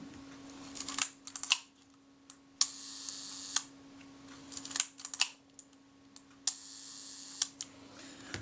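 A Retina IIc camera shutter set to a slow speed fires repeatedly, giving sharp close mechanical clicks in pairs and singles at irregular intervals over a faint steady hum.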